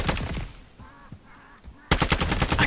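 Hemlock gunfire in a zombies video game: a loud burst of rapid shots, a quieter pause with faint background noise, then another close, sharp burst of fire.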